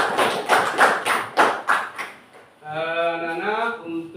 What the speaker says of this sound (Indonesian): Oke, tepuk tangan dulu anak-anak.